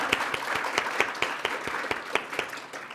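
A conference audience applauds its morning speakers at a hematology meeting, a dense, steady patter of many hands with sharper individual claps poking through, sustained across the whole moment without talk.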